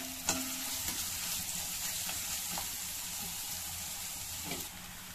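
Onions and mushrooms with salt sizzle steadily in a hot pan, a continuous hiss broken by a few scraping stirs of a spoon, close and alone with no talk.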